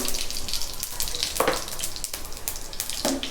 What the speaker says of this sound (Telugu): ఇప్పుడు ఆయిల్ వేసి కొంచెం వేడి చేశానండి ఇప్పుడు దంచిన వెల్లుల్లి ఎండుమిర్చి కొంచెం ఆవాలు